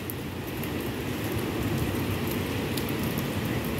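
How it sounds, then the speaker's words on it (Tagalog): Heavy rain pours steadily on a Hong Kong street, a dense, even hiss of falling water with no talking. "Ganito ngayon guys sa Hong Kong, maulan."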